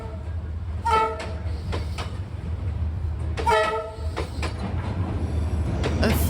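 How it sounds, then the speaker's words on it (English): The express train to Saigon rolls along Hanoi's narrow Train Street with a steady low rumble, and its horn sounds in two clusters of blasts over the continuous noise. "A 4-meter wide street through which the 3-meter wide express train to Saigon passes several times a day."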